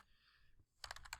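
Quiet keystrokes on a computer keyboard come as a quick, uneven cluster of clicks near the end, following a soft hum.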